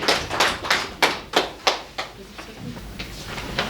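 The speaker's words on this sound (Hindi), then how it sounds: "आपके लिए तालियां।" A few people clap at a water-supply operation and maintenance training session in India, giving a handful of sharp, separate claps that thin out into scattered taps before fading.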